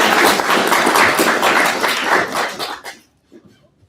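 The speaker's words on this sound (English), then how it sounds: "Let's give a round of applause." An audience at a Robotics and Data Summit in Silicon Valley claps loudly and densely for nearly three seconds, then the applause abruptly dies into near silence with a few faint stray claps.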